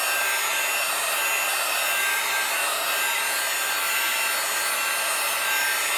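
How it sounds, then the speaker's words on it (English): A blow dryer blows air over a wet oil painting of sailing ships, a steady loud whooshing roar that runs unbroken and alone throughout. "This is drying nice with the blow dryer."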